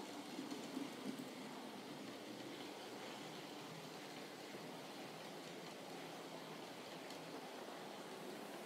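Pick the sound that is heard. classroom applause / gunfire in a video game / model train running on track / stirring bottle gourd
model train running on track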